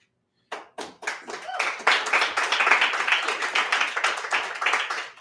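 Applause and clapping from a small audience at an evening poetry reading in a pub setting, a few lone claps first, then a steady, moderately loud round of hands that keeps going to the end.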